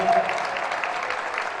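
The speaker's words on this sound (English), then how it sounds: "Please stand and give yourself a round of applause" Audience at a football press luncheon giving a round of applause, a short burst of steady clapping filling the room, slightly louder at the start.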